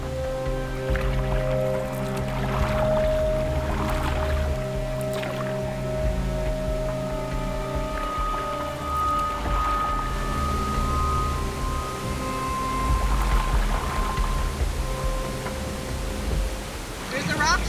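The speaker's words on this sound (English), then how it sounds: "paddling down the raging river." A boat paddled down a raging river on the Rio Roosevelt: rushing whitewater roars without a break, and paddle splashes and knocks come and go beneath it.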